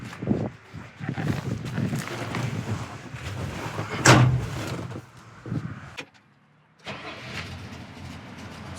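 A 1969 GMC K1500 pickup truck cranks and starts its engine, which runs up loudly, idles roughly, then shuts off and falls briefly quiet before rumbling back to life.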